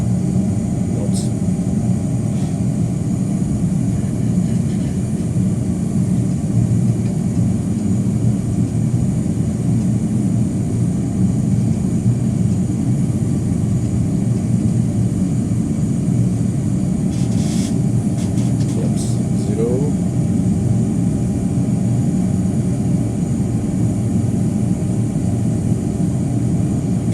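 Airbus A320 flight simulator cabin during acceleration to 250 knots, a loud, continuous low engine and airflow drone that holds steady throughout, with a few brief faint clicks partway through.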